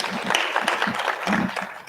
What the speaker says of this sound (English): Last round of applause.